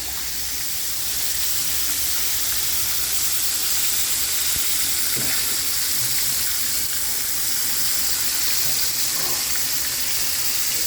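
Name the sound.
country fried steak frying in pan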